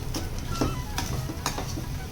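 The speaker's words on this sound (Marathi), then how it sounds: "केळी अशी मस्त स्मॅश करून घ्यायची." Banana being mashed in a pan while sweet semolina sheera cooks, with soft repeated scraping and stirring strokes over a low steady frying hiss, close and fairly quiet.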